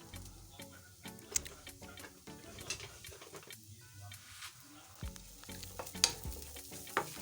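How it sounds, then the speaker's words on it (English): Spring onions sizzle in hot oil in a cooking pot while being stirred, a steady frying hiss broken by scraping stirs and occasional utensil taps, close and moderately loud. "Koroga everything so that it's covered with the oil. Simmer this for almost a minute."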